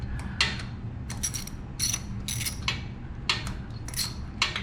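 A ratchet on a flexible extension clicks as it loosens the exhaust nuts on an Indian motorcycle, in repeated short bursts of rapid metallic ratcheting, close and fairly loud over a low background hum.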